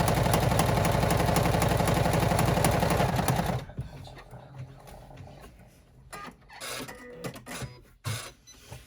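Embroidery machine stitching a construction stitch on a vinyl clutch, a loud, fast, steady mechanical chatter for several seconds that cuts off abruptly, followed by quieter handling clicks and rustles.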